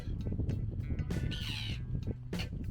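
Seagulls call near their nest on an Estonian beach, several loud harsh cries and squawks close by, repeating irregularly over a windy outdoor background.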